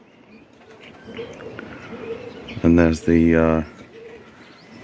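Spare pigeon hens in an outdoor aviary beside a young-bird loft give two loud, close coo calls in quick succession, over a low murmur of background birds and a single brief spoken word.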